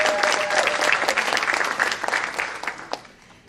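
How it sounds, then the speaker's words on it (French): An audience claps steadily at an evening event welcoming a woman back to the stage in a Congo-focused mission gathering, with dense continuous applause and a few scattered voices, easing off near the end. "Nous allons applaudir et accueillir Madame Terry Terrell."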